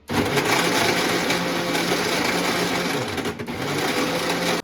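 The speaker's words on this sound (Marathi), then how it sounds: "आणि आता हे मिक्सरमधनं फिरवून घ्यायचं." A mixer grinder whirs steadily while blending mango milkshake with cream and a little sugar, a loud continuous motor drone holding from start to finish with a brief dip near the end.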